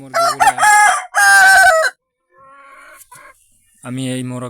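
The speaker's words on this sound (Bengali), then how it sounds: "এই মোরগ" Rooster on a desi chicken farm crows loudly in two long, strongly harmonic calls, then a fainter call follows after a short pause, and another loud crow begins near the end.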